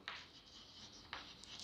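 Chalk or marker writing on a classroom board during a physics lesson, a few quick scratchy strokes close by, separated by short pauses, with no speech over them.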